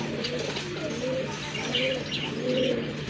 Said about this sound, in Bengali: আরেক জোড়া কবুতর মুখী কবুতর বিগ সাইজের কোয়ালিটি সম্পন্ন কবুতর